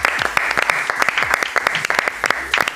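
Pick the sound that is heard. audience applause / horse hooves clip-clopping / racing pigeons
audience applause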